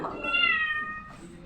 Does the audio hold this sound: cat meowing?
yes